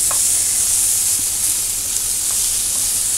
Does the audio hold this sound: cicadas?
no